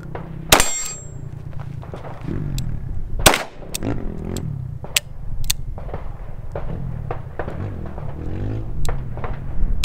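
A Colt Python .357 revolver fires brass-cased 125-grain ammunition in two loud, sharp cracks spaced a few seconds apart, followed by fainter clanks and clicks over a steady low background.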